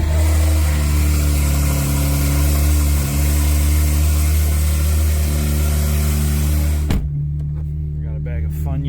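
Porsche 911 (992) engine running loud and close with a deep steady drone and revving, cutting off abruptly near the end, leaving quiet clicks.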